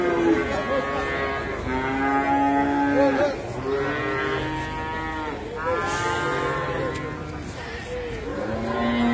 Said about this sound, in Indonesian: Kita akan coba tanya kepada Mas Andi, kalau sapi pedetan seperti ini biasanya kena dengan harga berapa?